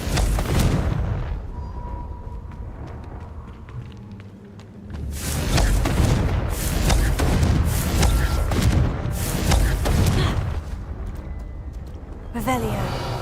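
Repeated Confringo blasting curse explosions in Hogwarts Legacy arrive as loud booming bursts from about five to eleven seconds, then another crackling blast near the end, heavy and close over game ambience, with a voice speaking.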